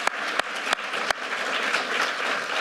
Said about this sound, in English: we need to clap for that